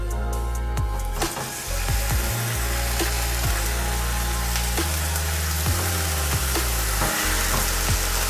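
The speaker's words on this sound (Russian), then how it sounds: "наливаем сюда немного оливкового масла и будем обжаривать мясо по минутке с каждой стороны" Meat frying in olive oil in a preheated skillet, a steady loud sizzle running throughout with occasional scrapes and knocks from the pan, no voices.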